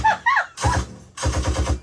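Rapid bursts of heavy automatic gunfire, loud and close, in short rattling volleys with brief pauses, ending in a longer sustained burst.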